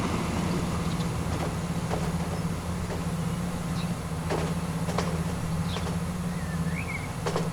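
A train rolls past with a steady, continuous rumble in the video game Transport Fever 2, with faint bird chirps scattered above the noise.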